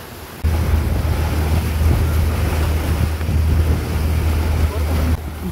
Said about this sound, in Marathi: इतक्या लाटा येत आहेत